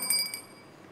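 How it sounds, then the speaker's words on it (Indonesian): Small hand bell rung in a church service, a few bright metallic rings fading quickly into a faint decaying shimmer in a quiet room. "lonceng ini fungsinya apa sih?"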